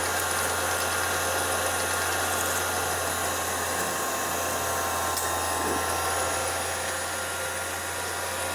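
A Keystone CC-8 8mm projector motor spins at high speed with its belt off, giving a steady, close, continuous high whine that holds evenly throughout with no voices.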